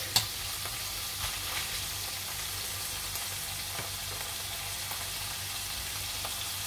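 Calf liver cooks in a pan, with a faint continuous sizzle, an occasional soft stir or tap, and one sharper click at the start, all quiet and without talk.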